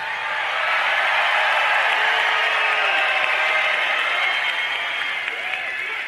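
A large crowd at a live taping of the Kevin Jackson Radio Show in Pensacola, Florida, applauds loudly and continuously, sustained clapping holding steady before tapering slightly at the end.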